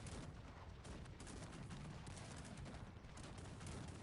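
Artillery and howitzer fire from a Cossacks 3 battle, a dense, continuous rumble of cannon blasts and gunfire layered over one another at a steady, moderately loud level with no pauses.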